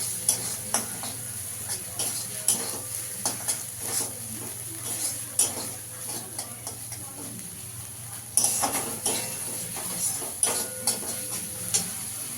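Bottle gourd and vegetables with turmeric sautéed in a pan for shukto, a soft frying sizzle beneath repeated scraping and clinking stirs of a spatula at an irregular pace, close by.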